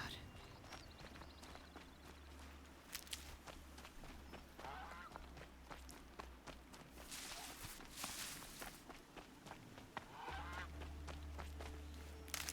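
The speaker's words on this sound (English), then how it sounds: "I hear a duck. Or it's a goose." A goose honks in Horizon Zero Dawn, short calls heard faintly among steady footsteps, rustling and ambient game sounds, with a low drone that cuts out and returns.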